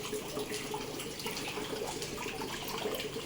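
Water flows steadily in an indoor house-plant garden by a meditation area, a constant close trickling and splashing like a small fountain or tap, with no voices.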